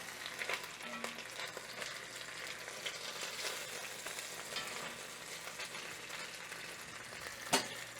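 Chicken pieces sizzling in a Misen Dutch oven, a soft, steady frying crackle with scattered scrapes and clacks as the pieces are turned, ending in a sharper knock.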